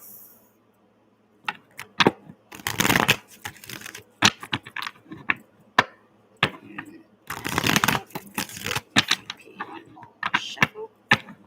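Tarot cards are shuffled by hand in repeated riffling bursts with quick taps and snaps between them, close and crisp in a quiet room.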